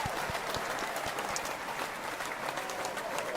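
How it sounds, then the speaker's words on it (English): A gathered crowd claps their hands in steady applause, a dense patter of many hands with a few sharper individual claps standing out near the listener, continuing evenly for a few seconds. "Give him a hand clap"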